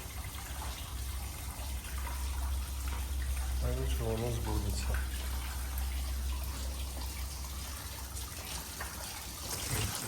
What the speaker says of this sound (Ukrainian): Біжить такий струмочок, озерце, куди можна кинути монетки, загадати бажання.